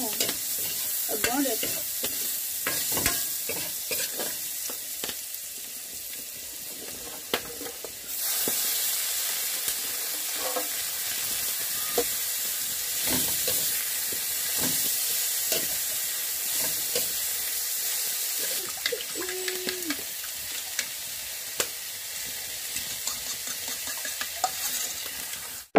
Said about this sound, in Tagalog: I'm cooking here in dirty kitchen. Mix natin yung kangkong.